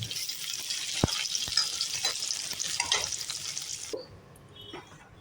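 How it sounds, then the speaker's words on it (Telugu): Paneer fries in a pan, a steady close sizzle broken by a few sharp utensil clicks, then drops to a quieter hiss for the last second. "ఇలా దోరగా వేయించుకొని తీసేయాలి"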